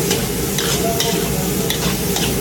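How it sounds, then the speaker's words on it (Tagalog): Tomatoes sizzle loudly in a hot frying pan while being stirred, a steady dense frying hiss with the scrape of a utensil through the pan at regular intervals, and no talking. "lagay na tayo ng kamatis"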